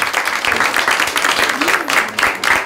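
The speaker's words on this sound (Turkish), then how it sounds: "Alkışlayalım Hasan'ı." Dense, steady clapping from a TV talk show studio audience fills the space, loud and continuous, with a voice briefly heard underneath.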